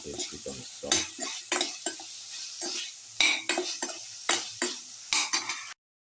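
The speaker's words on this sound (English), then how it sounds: "keep on stirring and mixing for 2 to 3 minutes until the tomatoes become soft" Tomatoes stirred in a frying pan for a garlic egg tomato casserole, repeated close scraping strokes of a spoon against the pan over a soft sizzle, coming in irregular bursts before stopping abruptly.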